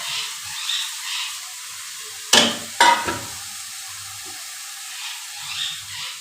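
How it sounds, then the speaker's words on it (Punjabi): Sliced onions tipped into a pan of frying vegetables give two sharp bursts of sizzling and hissing close by, with a faint steady fry and soft stirring before and after. "ਇਹ ਥੋੜੇ ਥੋੜੇ ਪਿਆਜ਼ ਕਟਿੰਗ ਕੀਤਾ ਹੋਇਆ ਲੰਬੇ ਸਲਾਈਸ ਇਹਨਾਂ ਨੂੰ ਵੀ ਐਡ ਕਰ ਦੇਣਾ"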